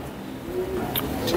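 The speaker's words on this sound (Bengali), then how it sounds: "এই দেখুন পায়রা একটা লাইটে বসেছে" Pigeons from a rooftop loft during a pigeon flying competition give a brief, faint coo against soft background noise.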